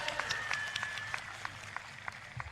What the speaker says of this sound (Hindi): जिन्होंने बहुत अच्छी परफॉर्मेंस की थी, उनके लिए एक बार जोरदार तालियां हो जानी चाहिए।